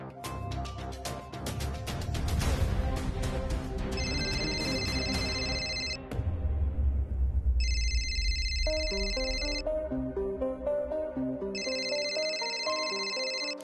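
A mobile phone rings with a bright, repeating electronic tone in three short bursts, following a busy stretch of scene music and background noise in an indoor TV drama setting.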